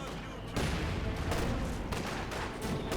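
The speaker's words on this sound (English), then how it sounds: "With the mortars there continuing to fire away at each other." Mortar and artillery fire in Company of Heroes 2, a dense run of explosive booms and blasts from a 1v1 battle between Soviet and German forces, loud and continuous with bursts near the start and midway.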